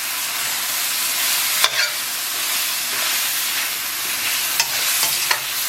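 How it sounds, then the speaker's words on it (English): Goat curry for Javanese gulai kambing fries in a pan with a loud, close, continuous sizzle and hiss as spice mixture and coconut milk are stirred in. A few sharp spoon scrapes and clacks punctuate the sizzle, and no one talks. "So in goes again the spice mixture and the coconut milk. I'm going to stir in the spices first."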